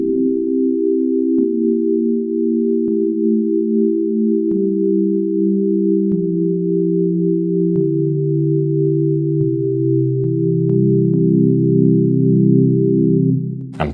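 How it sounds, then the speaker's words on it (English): Sustained synth pad built from sine waves with chorus and reverb, a smooth layered chord whose lower notes step downward every second or so, each change marked by a faint click, loud with slight clipping distortion. "I could play a quick pad."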